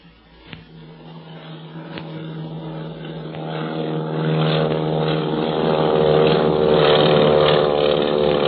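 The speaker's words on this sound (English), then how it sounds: "Hey, look, he's banking. He's going to come back and circle over us." A propeller airplane in a radio drama drones overhead and banks, its engine hum swelling steadily louder and fuller over several seconds after a couple of soft knocks, with no voices.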